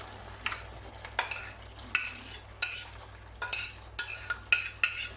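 Aubergines are stirred in a frying pan, sharp rhythmic scrapes and knocks of a utensil recurring about every half second over a low steady hum and faint sizzle, close up, with no voices.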